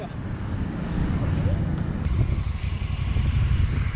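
A dual sport motorcycle rides away at a camp in Vernon, Utah, its low engine rumble steady and gradually building under heavy wind noise, with voices talking over it.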